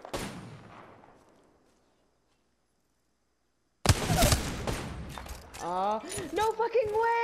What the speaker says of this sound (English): try to shoot this last guy right here